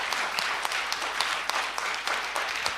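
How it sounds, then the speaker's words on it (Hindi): An auditorium audience breaks into sustained applause, a dense, even patter of many hands clapping at moderate loudness throughout. "ताली हो जाए।"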